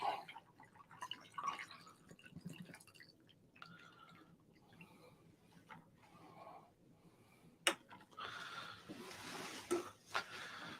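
Hard southern sweet tea is poured into a glass indoors, giving a quiet, close trickling splash with small drips that grows toward the end.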